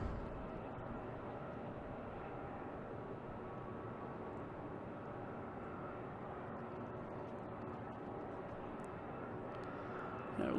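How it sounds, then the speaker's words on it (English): An Alaska Airlines jet departs Logan airport at dusk, its engine roar a distant, broad steady rumble heard from afar with no voices. "We got Alaskan Airlines heading to San Francisco."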